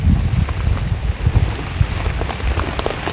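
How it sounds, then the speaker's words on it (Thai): Steady rain pours down on a coffee plantation, a dense close patter of drops with scattered louder splats throughout and no voices. "อันนี้ก็ฝนตกอีก"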